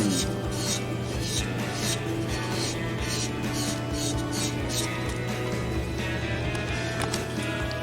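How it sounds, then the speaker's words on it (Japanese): A file rasps across a plastic part of a 1/100 VOLKS Knight of Gold model kit in steady, rhythmic back-and-forth strokes, close and continuous over a faint background hum. "面しっかり整えるのとモールドの縁をシャープにしてあげるっていう感じでヤスリをかけていきましょう"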